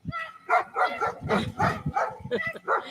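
A dog barks and yips several times in quick succession, close by, with some whiny, vocal tones mixed in.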